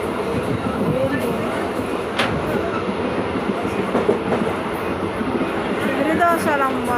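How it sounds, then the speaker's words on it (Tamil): A passenger train heading to Virudhachalam rumbles along steadily, a constant rolling roar of the carriage with faint rattles, heard from inside the car, with a brief high squeal near the end. "விருதாசலம் போகிற ட்ரெயினில் போய்கிட்டு இருக்கோம்."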